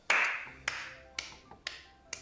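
Five sharp hand claps in a loose, slowing rhythm, each a crisp, fairly close transient with a brief ringing tail in a quiet room, with no talking.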